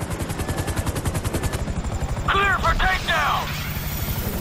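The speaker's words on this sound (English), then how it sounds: "MIB choppers, pick me up!" Helicopter rotor in Grand Theft Auto V thumping in a steady fast pulse from a chopper close by, loud and continuous, with a brief burst of other noise midway.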